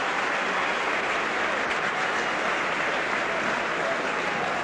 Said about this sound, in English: Getting a good round of applause from the Warrington fans.